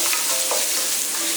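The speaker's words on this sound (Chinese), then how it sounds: "留少许油下蒜蓉" Minced garlic sizzles in a little rendered pork fat in a wok, a steady bright frying hiss with the scrape of stirring, close and continuous.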